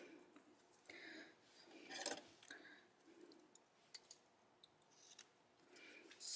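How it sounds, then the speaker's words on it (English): Scissors cutting ribbons for a scrapbook craft, quiet close snips and slicing scrapes scattered across the span with small ticks and rustles between. "And then for this we need to cut the ribbons."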